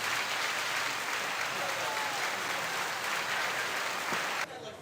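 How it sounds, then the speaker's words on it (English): Audience at a youth swim meet claps steadily in a dense, sustained burst of applause echoing in an indoor pool hall, cutting off abruptly near the end. "We'll give some claps"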